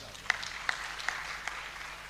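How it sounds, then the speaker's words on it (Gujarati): Sparse applause from an audience at a live Gujarati comedy show, a few sharp claps standing out over a murmur of voices. "આ મુકેશ બારોટ, તાળીઓથી વધાવો"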